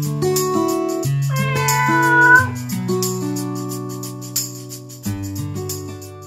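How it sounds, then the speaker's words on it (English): A tabby cat meows in an animated short film, loud, drawn-out calls with a rising wail midway, woven through steady tonal music. "we find Gabble, the town's beloved and mischievous tabby cat"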